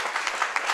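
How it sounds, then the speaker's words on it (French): A comedy show audience claps in a short, brief burst, close-sounding hand claps with a few sharper accents standing out. "Applaudissez."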